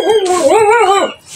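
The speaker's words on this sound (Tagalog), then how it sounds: "Pasensya na guys, sa ingay ng aso ko." A dog whimpers and howls in a short, wavering, high-pitched cry, close and loud, trailing off at the end.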